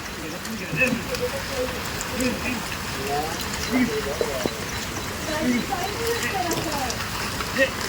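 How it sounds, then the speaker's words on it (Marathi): Heavy monsoon rain pouring down in a steady wash over rice paddy fields in Ratnagiri, with faint voices and occasional knocks and chirps over it. "हा बघा पाऊस किती जोरात आला"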